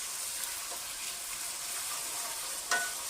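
About 500 g of fresh chickpeas fry with tomatoes in a pan, giving a steady, soft sizzle with faint scraping of stirring throughout and one brief louder clatter near the end.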